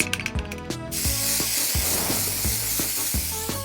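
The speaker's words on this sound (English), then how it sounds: "Spray paint is gonna be perfect for this." A few mechanical clicks, then a steady hissing aerosol spray runs for several seconds up close, with faint clicking underneath.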